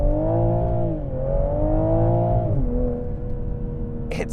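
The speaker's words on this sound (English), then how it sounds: "Watch what happens to the front of this car when I launch this thing." A 2021 Toyota GR Supra accelerates hard from a launch, its engine note climbing through gear changes in a steady, moderately loud pull.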